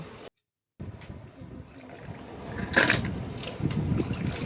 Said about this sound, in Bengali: আমি এখানে আলুগুলো সেম প্রসেসে কেটে নিয়ে জলের মধ্যে ভিজিয়ে দিয়েছিলাম কিছুটা আলু আর কিছুটা এখন ভালো করে জল পাল্টে পাল্টে ধুয়ে নেব